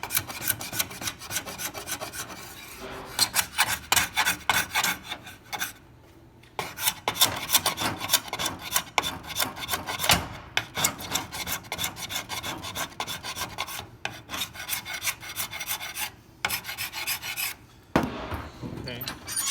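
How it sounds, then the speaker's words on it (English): A hand scraper pulls shavings off a wooden web frame in repeated rasping strokes, close and rhythmic, with short pauses between bursts. "So press down with one hand, and you should be able to pull shavings off."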